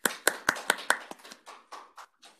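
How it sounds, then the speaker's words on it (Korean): Small seminar audience welcoming a professor before an accounting research talk, a few sharp separate claps at first that soften into sparse, fading clapping from several people over a couple of seconds. "큰 박수로 안 교수님 환영해 주시기 바랍니다"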